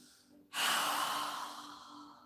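A single strong open-mouth exhale during a yoga breathing exercise bursts out after a quiet moment, a loud breathy rush that slowly fades over about two seconds.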